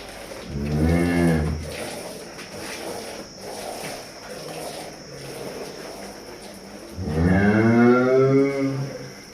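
Cows on a farm in Bajakhana village, where cattle including a Nili-Ravi buffalo calf are offered for sale, give two loud, drawn-out moos, one near the start and one near the end, with a quieter lowing between and no talk.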